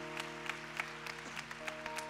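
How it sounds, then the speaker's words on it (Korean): A church youth-service congregation claps together to bless newly welcomed members, a steady sustained round of applause with no voices above it. "와, 우리 좀 박수로 축복합시다."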